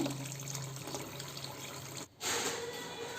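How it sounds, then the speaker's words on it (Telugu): Water drains off boiled rice for chicken biryani made in a pressure cooker, a steady soft trickling pour that breaks off briefly and then resumes, faint and close with no talk. "ఇప్పుడు వాటర్ తీసేసుకుందామండి."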